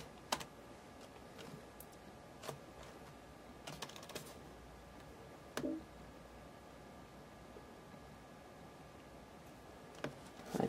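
Keys on a Mac computer keyboard are struck in a few sparse, quiet clicks and short bursts against a low, steady room hiss, with no talking.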